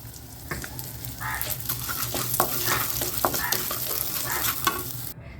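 Urad dal dry-roasting in a pan for a drumstick-leaf spice powder, a continuous rattling, scraping stir with crisp crackle throughout, close and fairly loud, ending abruptly.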